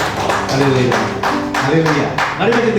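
A church congregation claps at a service, with loose, irregular claps coming in bursts under a loud voice leading worship.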